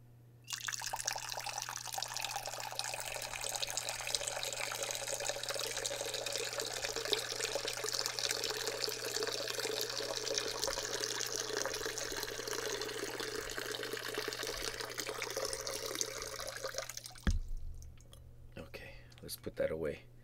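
Soft water trickling and dripping during an eye fluid removal demonstration, a continuous quiet flow lasting most of the clip before stopping abruptly, under a steady low hum.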